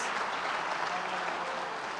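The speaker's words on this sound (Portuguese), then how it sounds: "Aplauda o Senhor Jesus." A church congregation applauding during a service, a steady wash of many hands clapping at moderate volume, continuous and even from start to finish.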